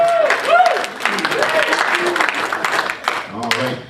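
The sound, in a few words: audience applause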